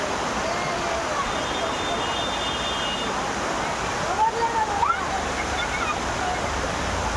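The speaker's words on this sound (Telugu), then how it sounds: "వాటర్ పడుతున్నాడు" A waterfall roars as a steady, dense rush of falling water, loud and close, holding evenly throughout.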